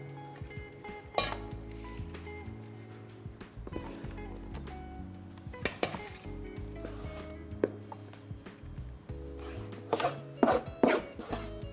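Sushi rice tipped out into a bowl, with scattered clinks and thunks of a spoon, bowl and utensils against a steady background hum, a few sharper knocks near the end.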